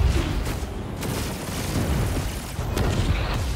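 Explosions in the space combat video game Chorus, a dense continuous barrage of booming blasts and bursts, loud and close with no talking.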